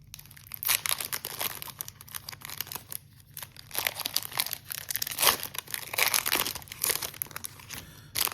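The crinkly foil wrapper of a trading card pack from a mega box is torn open and handled, giving close, irregular crackling and crunching bursts for several seconds.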